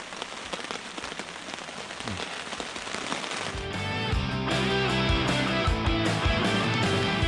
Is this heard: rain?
yes